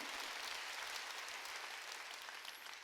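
Church congregation at a Sunday worship service clapping together, a dense, steady wash of many hands held at an even level throughout, faint and somewhat distant, with no voices over it.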